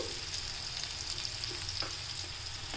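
Moringa leaves and egg pan-roasting with salt and chili powder give a steady, close sizzle with a few soft stirring scrapes, continuous and even throughout, with no talking.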